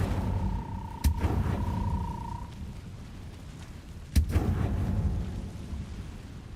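The Incendio fire spell cast in Hogwarts Legacy lands as two separate sharp, booming bursts a few seconds apart. Each is followed by a rumbling crackle over a low, steady background hum, and a brief tone rings after the first.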